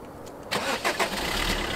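A car engine cranks and catches after a quiet moment, then settles into a loud close idle with a couple of brief rises in revs.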